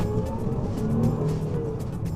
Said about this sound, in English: You hear the noise? It's so good when the supercharged kicks in.